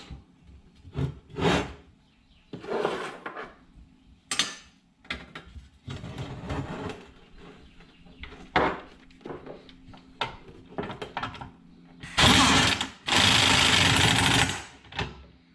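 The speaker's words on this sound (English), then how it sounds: "I've got to get a wrench on the other side of this." A wrench works a bolt on a Cub Cadet mower during a drive belt and pulley replacement, giving a string of irregular metallic clanks and ratcheting scrapes up close, ending in a long, louder grinding burst.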